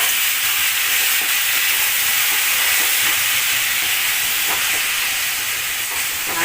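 Tomatoes with salt sauté in a pan for chutney, giving a continuous loud hissing sizzle that stays even throughout with no talking.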